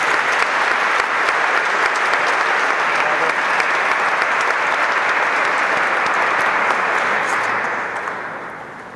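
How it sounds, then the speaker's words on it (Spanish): Loud, dense audience applause at an INEA forum welcoming a speaker to the stage, steady and sustained, then tapering off near the end, with no voices over it. "vamos a recibir con un fuerte aplauso al maestro Miguel Alonso Calles"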